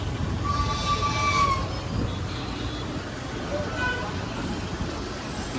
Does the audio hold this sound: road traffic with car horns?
yes